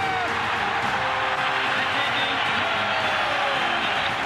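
A football stadium crowd roars after a game-winning field goal as the Chicago Bears beat the Oakland Raiders in 1996, a dense, steady wall of cheering that stays loud and unbroken throughout.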